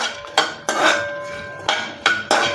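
A metal utensil clanks and scrapes against a ghee pan while lifting out fried cashews and almonds. Five or six sharp, close metallic knocks come at uneven intervals, with soft ringing between them.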